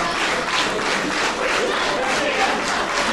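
A crowd at the EWF Arena during a wrestling match between Eric Cross and Ju Dizz, cheering and applauding in a steady, dense roar that holds throughout, with voices mixed in.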